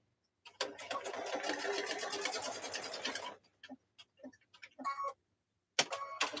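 A sewing machine stitches denim pot holders in one long steady run of rapid mechanical whirring, then stops and gives a few short bursts separated by silence, with a last quick burst near the end.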